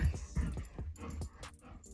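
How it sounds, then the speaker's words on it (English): A pet dog makes short whimpering yips and soft bark-like sounds, several close bursts over about a second and a half, then trailing off with faint room noise. "There goes the dog."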